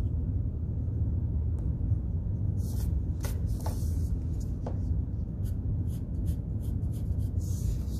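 Pencil strokes scratch across paper while perspective lines for a city drawing are ruled, with scattered soft scraping bursts over a steady low rumble and no talk.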